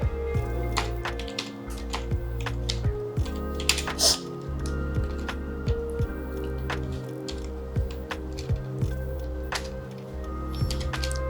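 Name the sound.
typing a password on a computer keyboard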